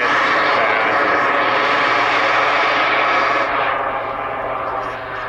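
Giant radio-controlled jet aircraft flying fast overhead, a loud, steady turbine roar filling the whole clip and easing slightly toward the end as it passes.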